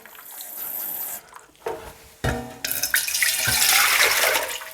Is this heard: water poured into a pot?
yes